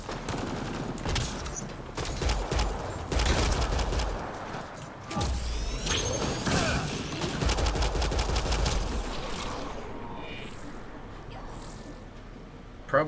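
Distant firefight in Mass Effect Andromeda: rapid gunfire volleys and mechanical clatter over a steady din, with sparse game voices underneath.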